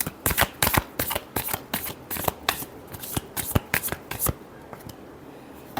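Tarot cards are shuffled by hand up close, a rapid series of crisp riffling slaps and flicks in uneven bursts, with no talk over them.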